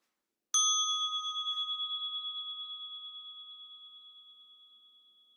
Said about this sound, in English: So I wake up the bell